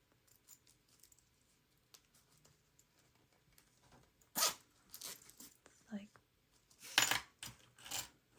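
A metal zipper and its pull are handled while a fabric bag is being sewn: faint clicks and rattles, then several louder close zipping rasps and jingles in a quiet room.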